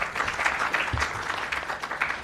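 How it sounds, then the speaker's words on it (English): A panel discussion audience applauds the panelists, producing dense, steady clapping from many hands at moderate volume throughout. "I think our panelists need a round of applause."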